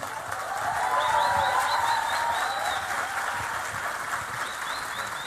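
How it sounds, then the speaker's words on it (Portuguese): An audience rises to give a strong round of applause welcoming Dr. Augusto Cury, dense sustained clapping swelling and then holding steady, with faint whistles and cheers riding over the crowd noise. "receber com um forte aplauso Dr. Augusto Cury"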